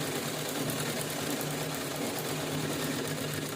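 Close and steady, a sewing machine stitches folded saree fabric into a chappal stand cover, its motor whirring evenly and continuously with a rapid needle rhythm and no voices.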